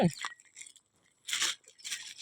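Dogs eating hot rice, giving a few short crunchy chewing bursts separated by quiet gaps, close and fairly faint.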